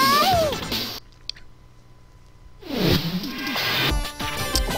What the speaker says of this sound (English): Yep, that is definitely a giant cat.